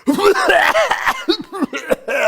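A voice imitates a loud, wet cough, a harsh burst with throaty rasp, close up, with a chuckling, snickering quality between the bursts.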